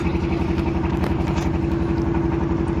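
The engine of a trawler boat on Tanguar Haor runs loud and close, a steady throbbing chug with rapid even pulses and no change in pace.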